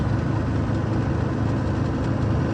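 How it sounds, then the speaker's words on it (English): A Massey Harris 92 combine's engine idles steadily at close range, a low, even rumble with a constant vibration and no talk over it. "Well, I'm going to shut the gas off. Let it run out that way."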